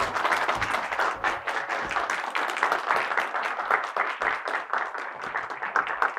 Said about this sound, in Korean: 큰 박수와 함께